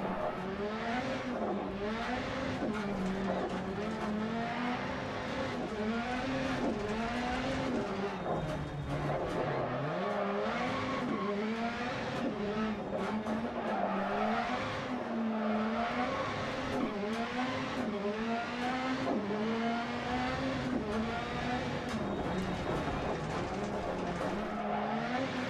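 A VW Polo rally car races the Höljes track in Sweden in Dirt Rally, its engine revving up and down through repeated gear shifts, with tires scrabbling and squealing over a constant loud drone.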